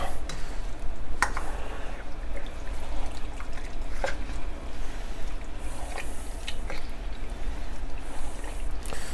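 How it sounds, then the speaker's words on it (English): A sturdy spoon stirs a thick pot of vegetable, bean and burger soup, giving continuous wet sloshing with occasional sharp clacks of spoon on pot, close and steady. "let me get a little stronger spoon here and get this all mixed up"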